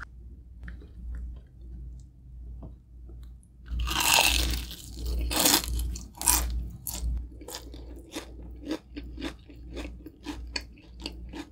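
Crisp bites into a Jollibee Chickenjoy fried chicken thigh, several loud crunches around the middle followed by steady close-up chewing with rapid crackles, no talking.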